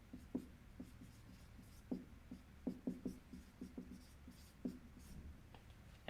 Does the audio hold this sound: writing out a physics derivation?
yes